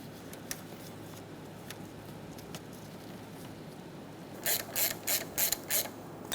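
A ratchet clicks in a quick run of five or six sharp strokes, tightening an engine mount bolt on a 2003-2007 Honda Accord. Quiet shop ambience and a few faint isolated clicks come before it.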